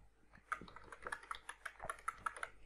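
Someone types on a computer keyboard while entering Excel code, producing a quick, uneven run of close, quiet key clicks with no talk.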